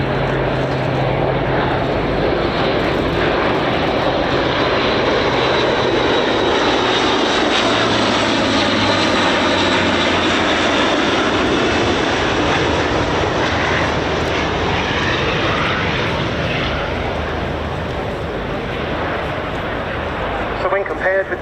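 An Airbus A400M military transport aircraft flies past at an air show, its propeller engines producing a loud, sustained drone that fills the whole stretch, with a commentator talking over it.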